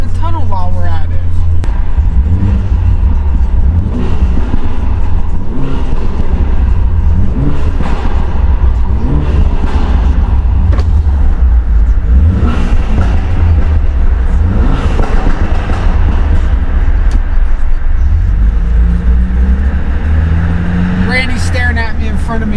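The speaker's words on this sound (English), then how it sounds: "Why not get some backfires in the tunnel while we're at it?" A BMW F-chassis with a Valvetronic exhaust revs hard inside a tunnel, a loud echoing engine roar rising and falling in several pulls with popping crackles, while someone talks over it throughout.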